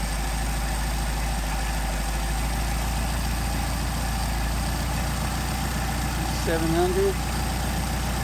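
A Mercedes 190SL engine with Solex carburetors idles low and steady at close range, a constant rumbling drone that carries on unchanged throughout, with a brief mechanical squeak near the end.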